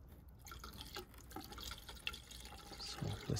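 Ready-mixed screen wash fluid is poured into the washer reservoir of a 2019 Volvo V40 T2 petrol, making a quiet, continuous liquid gurgle and splash with small drips, heard up close without speech.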